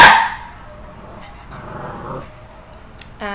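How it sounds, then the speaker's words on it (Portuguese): A small pet dog gives one sharp, loud bark at the start, then a quieter room follows with a short yelp near the end. "minha cachorrinha"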